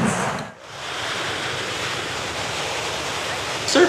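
Ocean waves break on a shore as a steady, broad wash of surf, briefly dipping before the roar resumes and swells slightly at the end.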